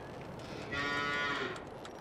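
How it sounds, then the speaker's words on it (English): A cow in the cow pen of the Farming Simulator 22 video game lets out one drawn-out moo in the middle, fairly close and clear over a quiet farm background. "We have a cow area for 30 cows."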